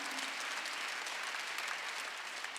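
A congregation claps during a Wednesday worship service at a Korean church, a soft, steady, even patter of many hands heard from a distance.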